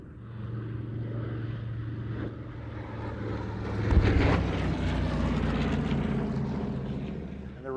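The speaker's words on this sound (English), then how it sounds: "Once again, here they come from your right to your left in the B-25s." North American B-25 Mitchell bombers pass from right to left, a throbbing roar of piston engines and propellers that swells to a peak around the midpoint and stays loud as they go by, under faint background noise.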